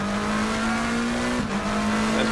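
A McLaren race car in a racing video game at Spa howls at a steady high pitch from on board, briefly dipping for a quick shift before holding its tone again, with no talk.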